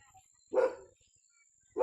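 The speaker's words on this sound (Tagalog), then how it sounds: "Nananahol na naman." Dogs barking in a Philippine street setting, two short loud barks about a second apart, each standing out against quiet background with a faint steady tone.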